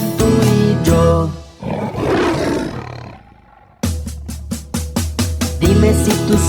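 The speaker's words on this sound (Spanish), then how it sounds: "Dime si tú sabes cómo hace el león" A lion roars loudly in a series of deep, rough bellows, followed by a stretch of quick, rhythmic grunting calls up close, with no voices over it.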